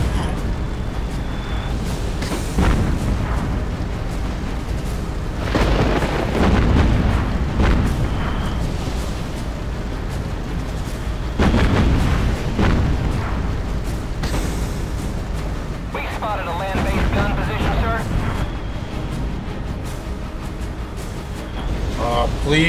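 Naval ship broadside gunfire in the video game Battlestations: Pacific: several heavy booming cannon blasts at irregular intervals over a constant rumbling background, with someone talking between them.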